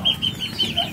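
Young chicks peep and cluck steadily at close range while being fed on a farm alongside ducklings and other poultry, with high chirps repeating over a low background murmur and no talking.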